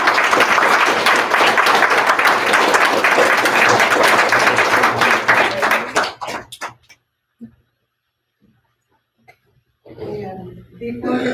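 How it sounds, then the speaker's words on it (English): Applause from the audience at a spelling bee, sustained and loud for about six seconds before cutting off into near silence, followed by a few faint knocks and then talking. "Round of applause for Lily."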